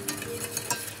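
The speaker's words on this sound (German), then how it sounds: "Die Isabelle rührt kalte Ankenstückchen in die heiße Soße." Cold butter pieces being stirred into a hot sauce in a home kitchen, giving a soft, close scraping and gentle sizzle in a few brief strokes.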